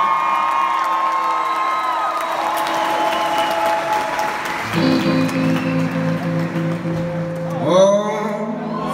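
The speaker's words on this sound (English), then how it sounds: "give them a great round of applause as well." Crowd at a live rock concert claps and cheers loudly, with whoops rising over the applause while instruments sustain chords and a guitar swells in near the end.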